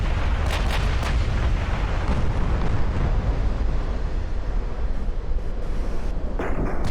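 Naval guns fire shells in Ultimate Admiral Dreadnoughts, a loud continuous roar of booming blasts and rumbling, surf-like low noise with repeated sharper cracks early on.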